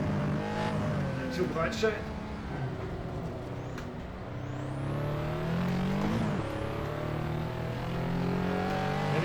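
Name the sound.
RUF Yellowbird engine and braking in racing game Assetto Corsa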